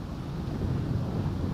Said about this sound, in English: Fuck this wind.